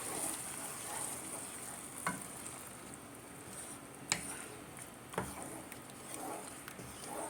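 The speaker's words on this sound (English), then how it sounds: "we mix it all together to combine it." Soft, steady sizzling of sauce in a pan with occasional sharp clinks of a utensil as it is stirred, quiet and close.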